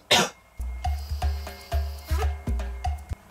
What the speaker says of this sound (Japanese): よし、じゃあまず咳いくか。